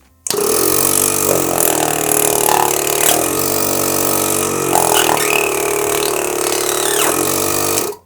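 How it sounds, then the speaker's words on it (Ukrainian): A Shturmovyk AC-52 12-volt car air compressor runs steadily and continuously at close range, a loud motor whir with rhythmic pumping pulses and no voices. "Зараз давайте під'єднаємо до живлення 12 вольт, ну і послухаємо, як буде спрацьовувати."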